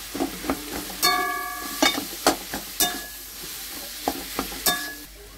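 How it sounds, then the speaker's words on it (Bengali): Boiled mashed potato is being stirred into a vegetable taco filling in a pan. A spoon scrapes and knocks against the pan in a slow irregular rhythm over a soft, continuous sizzle. "এটাকে দিয়ে দেবো এবারে পুরের মধ্যে, দিয়ে আমি ভালো করে মেখে নেব।"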